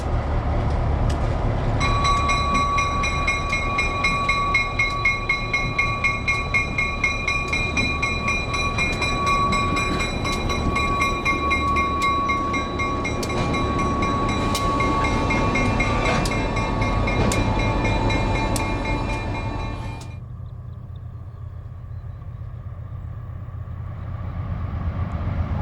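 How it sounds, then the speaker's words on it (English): A CF7 locomotive runs on the Ma and Pa railroad, its steady rumble sounding under a loud sustained horn blast that cuts off near the end and leaves the engine idling alone. "One of the last CF7s in service also made an appearance on the Ma and Pa side of the railroad"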